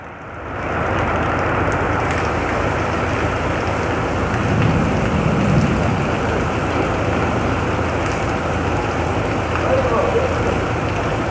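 Heavy rain and strong wind during a storm in Egypt, heard as a dense, loud, steady hiss and roar that runs unbroken from start to finish.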